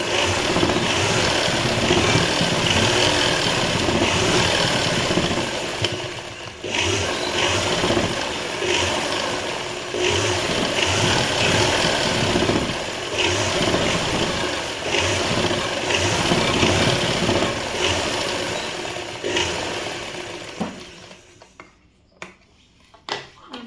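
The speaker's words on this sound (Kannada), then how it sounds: "ಇದೇ ಥರನೇ ಉಲ್ಟಾ ಹಾಕ್ಕೊಂಡು ಇನ್ನೊಂದು ಸ್ಟಿಚ್ ಹಾಕ್ಕೊತೀನಿ ಅದ್ರ ಮೇಲೆ" Sewing machine running steadily while stitching a work blouse, a continuous loud mechanical whir with a few short pauses, stopping near the end.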